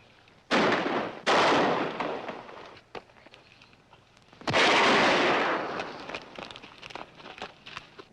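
Rifle fire in a tense standoff, heard as three loud, sharp reports with long rumbling tails, two close together near the start and a heavier one midway, followed by scattered faint crackles.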